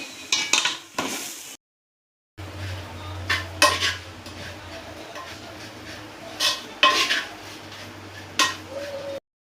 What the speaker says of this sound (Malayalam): ഇനി നമുക്ക് പൊടികളെല്ലാം മൂത്ത് വരുന്നിടം വരെ ഒന്ന് ഇളക്കി കൊടുക്കാവേ